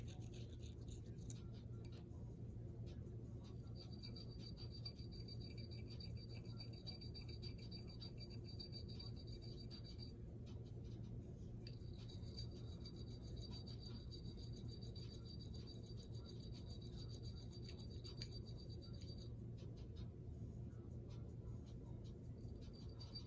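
A bristle brush rasps steadily against a rusty Taurus G2C pistol, a quiet continuous scrubbing close by with a faint steady hum underneath.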